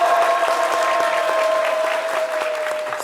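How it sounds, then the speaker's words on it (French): A studio audience on a French midday television show applauds to cheer on contestants before a game begins. The clapping is thick and continuous, with a steady sustained tone beneath it, and holds at an even loudness throughout. "Applaudissements pour les encourager."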